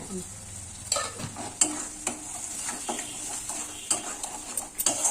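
Eggplant masala with a mustard-and-water paste, a little sugar and oil sautéing in a pan, giving a steady close sizzle while a spatula scrapes and clinks against the metal in irregular strokes.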